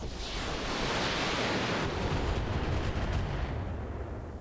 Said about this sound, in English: We're going to fire the rocket launchers.